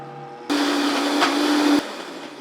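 Blender grinding peanuts into peanut butter, starting abruptly with a loud, steady whirring roar that holds for over a second and then cuts off, leaving a faint hum behind.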